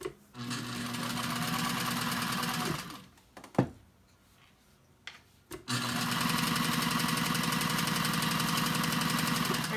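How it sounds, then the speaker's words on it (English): A Sailrite 111 sewing machine stitches regular thin cotton, a loud steady mechanical whir with rapid needle chatter that runs, stops for about three seconds with a few small clicks, then starts again and continues to the end. "let's sew and see how it does"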